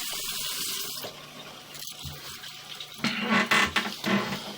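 Water runs from a tap, a steady splashing flow that shifts and surges briefly before being shut off, heard close up without any talking.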